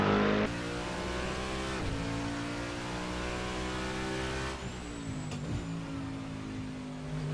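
Race car engine in Assetto Corsa, a GT racing simulation, drones loudly at high revs with steady harmonic tones, then drops in pitch as the throttle lifts and builds again through gear changes.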